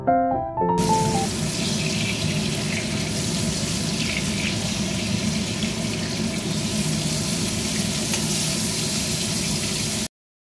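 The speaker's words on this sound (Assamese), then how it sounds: "এয়া মাছখিনি ফ্ৰাই কৰি আছোঁ মই।" Fish fries in a pan with a steady, loud sizzle that carries on for about ten seconds and stops abruptly. A brief tonal sound is heard at the start.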